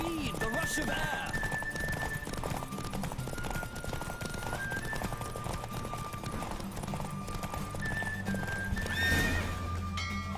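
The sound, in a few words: horse neighing and galloping in The Witcher 3 video game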